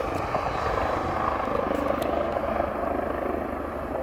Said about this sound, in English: there's a freaking airplane or something over there